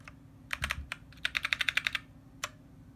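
Typing on a Magicforce 68-key mini mechanical keyboard: a sharp burst of close clicky keystrokes, a few spaced presses then a quick even run of about ten, ending with one final tap.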